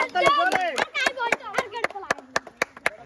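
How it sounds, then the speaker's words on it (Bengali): Village children clap for the winner of a rope-pulling game, a run of sharp, fairly close handclaps that steadily accelerate, starting under an adult's speech and continuing alone at the end. "সবাই তানজিলের জন্য হাততালি।"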